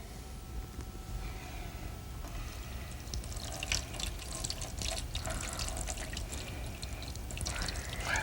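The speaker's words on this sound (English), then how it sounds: "Pour cold water over both of them." Cold water is poured over two glasses lined up side by side, a steady splashing and trickling stream that runs for several seconds at close range.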